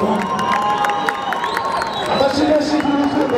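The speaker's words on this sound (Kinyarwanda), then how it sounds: "bakomere amashyi menshi" A lively crowd claps and cheers to welcome visiting guests at a gathering, dense sustained applause with shouts and children's voices mixed in, loud and close.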